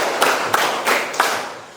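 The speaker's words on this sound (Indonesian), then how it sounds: "Tepuk 1, tepuk 2, tepuk 3, tepuk 4, tepuk 5" A school class claps a short counted pattern in unison, four distinct loud claps spaced roughly a third of a second apart, close and crisp in a room, followed by a fading tail, with no talking.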